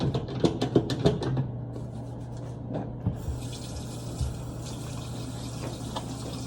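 Hands washed under a running tap, a steady close stream of water with some splashing and rubbing early on, then a smoother continuous flow, no talk.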